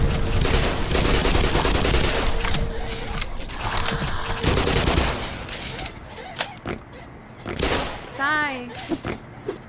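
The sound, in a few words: gunfire from the video game Black Mesa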